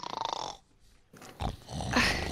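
A voice imitates loud snoring in a tabletop role-play scene, a rough, growling inhaled snort followed by a pause and a second raspy breath, close and exaggerated.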